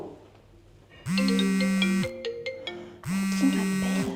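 A mobile phone ringtone for an incoming call in a Paris apartment stairwell, two loud electronic melodic bursts about two seconds apart, each lasting roughly a second, close and clear with a short pause between.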